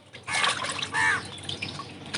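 Fish being rinsed in water, with soft splashing and sloshing swirls in two short surges, close and quiet with no talk.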